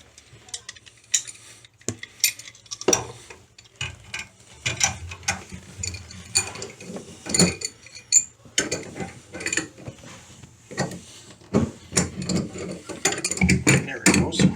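An old, loose toilet water shut-off valve being worked off its pipe: irregular metallic clicks, ratcheting ticks and scrapes come in uneven close bursts, growing busier toward the end, with no talk.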